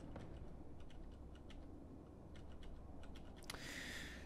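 Rapid clicks on a computer keyboard during a round of the tactical shooter Valorant, with faint, irregular keystrokes tapping in bursts over low game ambience and a brighter swell of game sound near the end.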